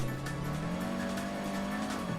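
Rally car in Assetto Corsa on a mountain road through the Wicklow Mountains, its engine droning steadily and loud while the tires squeal and skid continuously throughout.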